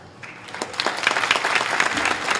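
An audience at a religious discourse applauds, a dense burst of clapping that swells after the first moment and carries on steadily to the end.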